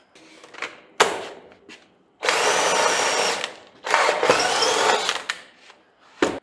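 A battery drill drives screws into the wooden decking of a homemade trailer: two long, loud whirring runs, plus several short bursts and brief taps between them.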